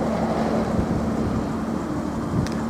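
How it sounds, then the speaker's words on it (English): A 2007 Aston Martin DB9 coupe with only 345 miles sits idling, its engine giving a steady low rumble throughout with no talk. "You'll see the engine's running now"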